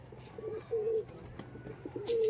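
Teddy pigeons in Murshidabad coo in soft, low, repeated calls with short pauses between them, close by and fairly quiet.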